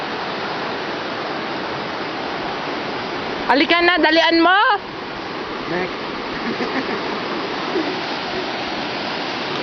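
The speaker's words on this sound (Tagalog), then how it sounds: "This is the river." A river flows steadily as a broad, even wash of water noise throughout, with people talking and shouting nearby over it.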